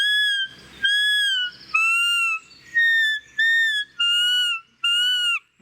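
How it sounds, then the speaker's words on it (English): A Sam Neyt Belblatt roebuck call blown with cupped hands gives a series of about seven loud, close, reedy bleats, each a short nasal whistle-like note with a slight downward bend, separated by brief pauses. "you just cup your fingers around the call like that to really amplify the sound"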